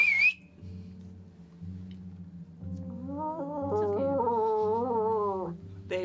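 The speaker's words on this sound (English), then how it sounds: "and she whistles for a ghost." A woman gives a brief, bright whistle at the very start to summon a ghost, and sustained, wavering tones with a low hum follow.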